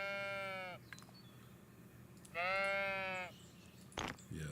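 Sheep bleat in a cozy farming video game, two clear drawn-out calls a couple of seconds apart over a soft ambient backdrop, followed by a short click near the end.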